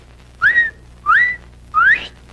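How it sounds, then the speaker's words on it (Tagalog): A person whistles three sharp rising notes as a warning signal, evenly spaced, loud and close, with no talking in between. "Pag pumito ka ng ganyan, yan, nangangahulugan, nandiyan na."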